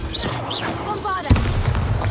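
A Bombarda blasting spell in Hogwarts Legacy goes off with a single sudden booming burst and rumbling tail, cutting through busy game ambience with magical whooshes and chirps just before it.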